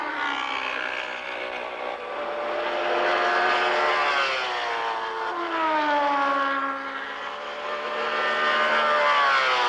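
A high-pitched race car engine whines continuously at speed during a 1985 Can-Am Challenge race at Lime Rock, pitch rising and dipping slightly as it holds a loud, sustained drone.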